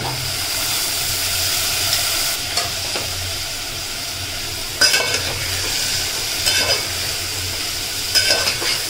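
Val beans, brinjal and potato hit frying onions with turmeric, setting off a continuous near sizzle and hiss with a few scraping stirs of a utensil against the pan.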